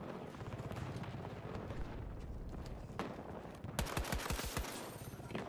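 An AK rifle fires in the Battlefield 2042 video game, with a quick burst of roughly seven rapid, punchy shots cutting through steady background battle noise near the end.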